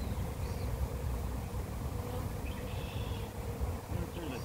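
A large honeybee swarm buzzes densely on a hive, a continuous low hum of many wings close by, with someone talking faintly at moments.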